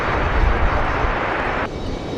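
A Frontier airliner jet roars on departure at Raleigh-Durham airport, a loud continuous broadband rumble heard alone that drops slightly near the end.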